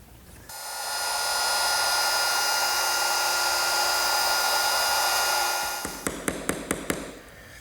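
A router cuts a dado in wood for a Shaker woodbox, its steady high-pitched whine and cutting roar running loud and unbroken for several seconds before winding down, then a few sharp taps.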